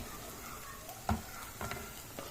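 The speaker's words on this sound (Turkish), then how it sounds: "Soğanlarımız gayet güzel. Şu an kavruldu." Onions sautéing in a pan for an eggplant and kavurma dish, a soft steady sizzle with a few brief stirring scrapes standing out, no talking.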